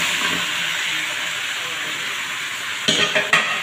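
Chicken and potato fry in a pan with browned garlic for chicken adobo, giving a steady loud sizzle and hiss, with a few clatters from stirring near the end.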